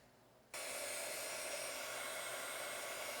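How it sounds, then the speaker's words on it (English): A hair dryer or heat gun switches on abruptly and blows a steady, loud, broadband whoosh that holds without change, warming an adhesive grip being applied, with no voices. "You can use a hair dryer."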